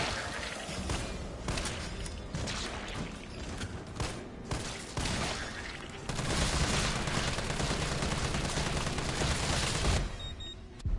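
Rapid gunfire from weapons in Resident Evil 3 Nemesis on Hardcore mode, dense repeated shots and booms layered over game music and effects, sustained and loud throughout with no talking.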